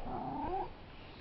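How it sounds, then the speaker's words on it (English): A domestic cat gives a single drawn-out, wavering meow close by, about half a second long, fading into quiet room tone. "Oh, there's a kitty."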